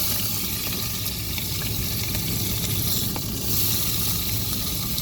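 Onions and green chillies frying in oil with cumin seeds for an egg masala, a steady sizzle and bubbling hiss with low rumbling underneath, no voices.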